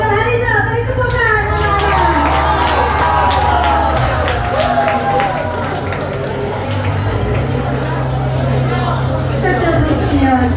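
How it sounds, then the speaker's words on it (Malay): Audience applause at a school staff appreciation ceremony at Sekolah Menengah Kuala Kedah, Malaysia, steady and loud, mixed with crowd chatter, cheering and an ongoing voice over a low hum. "Beri tepukan."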